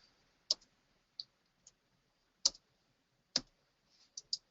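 A computer keyboard clicks in sharp, isolated keystrokes, about eight of them, spaced irregularly over a quiet background with no talking.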